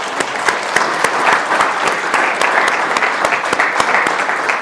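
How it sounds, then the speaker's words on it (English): Steady applause from an audience at the 2023 MBA Hall of Fame ceremony in Wichita, Kansas, honoring inductees, dense clapping with a few sharper near claps, sustained for several seconds. "please give them a round of applause."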